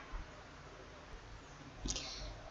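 A computer mouse gives a single faint click while working in a Microsoft Excel spreadsheet, a brief sharp tick against quiet room hum.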